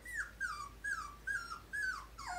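Two-week-old poodle puppies whimper close by in five short, high, whiny cries at a regular pace, with brief quiet gaps between them.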